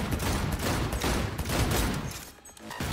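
Gunfire from a weapon in the video game Cyberpunk 2077, a dense loud burst of rapid shots filling the clip, easing off briefly near the end before resuming.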